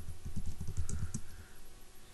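Fingers type quickly on a computer keyboard, a soft, close run of clustered clicks that tapers off toward the end, with no talk over it.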